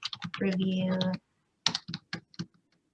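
Someone types on a computer keyboard, a quick cluster of clicks, a brief pause, then several more isolated key taps. A tonal sound overlaps the first burst of typing.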